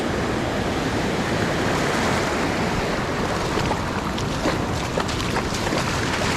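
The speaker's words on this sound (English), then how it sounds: "Laurel's first time in the Pacific Ocean" Pacific Ocean surf on a cold, foggy California coast, a steady broadband wash of waves rolling in close and loud, with no voices over it.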